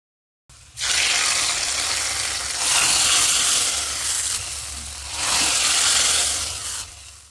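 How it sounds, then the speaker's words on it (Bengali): Two chopped onions hit hot oil with a sudden loud sizzle that keeps hissing steadily, swelling slightly as they are stirred. "এখন দিয়ে দিচ্ছি 2টো পেঁয়াজ কুচি, এটাকে আমি গোল্ডেন বাদামি করে ভেজে এরপরে বাগার দেব।"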